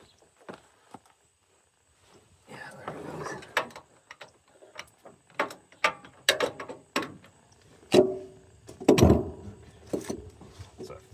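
A Harbor Freight extendable ratcheting wrench works a tight 15/16 bolt on a broken-down JLG 450A Series II boom lift: a run of irregular ratchet clicks and metallic knocks, close and moderately loud, with no speech.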